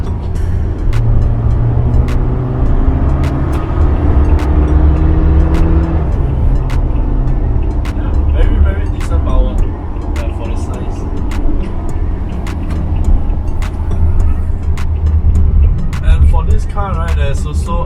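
A car with a 1.6 liter engine driving, a steady loud engine and road drone throughout with some rising tones early on, under near-constant talking from the driver.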